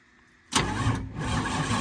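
A Detroit Diesel 8V92TA engine in a towed-in Wanderlodge bus that needs a rebuild and smokes on startup cranks and catches abruptly, then settles into a loud, rough, close idle with no talk over it.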